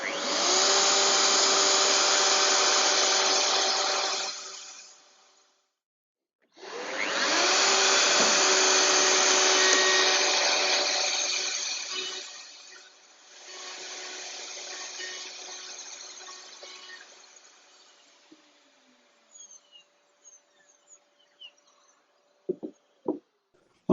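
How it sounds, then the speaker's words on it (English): Plunge router cutting a mortise in wood on a Leigh FMT jig, three loud whining bursts of the motor with pauses between as it spins down, then scattered light knocks and clatter at the end. "we're going to do full plunges to full depth to make several holes, and then we'll slide the router side to side to link them up"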